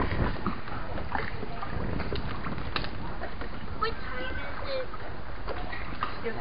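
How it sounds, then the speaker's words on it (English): A gondola glides through the Venice canals amid soft water sounds and wind buffeting the microphone, while people talk nearby throughout. "Gondola Ride."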